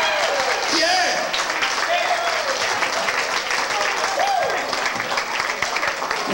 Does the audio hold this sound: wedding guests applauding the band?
yes